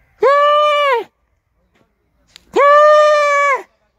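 A Rajan Puri Gulabi goat gives two loud, close bleats, each about a second long with a nasal wavering tone, separated by a brief quiet pause.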